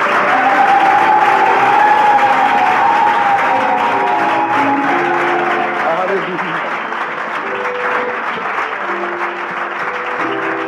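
A church congregation applauds and acclaims together in sustained, loud, dense clapping with cheering voices, continuous throughout with a sung or shouted tone rising over it early on.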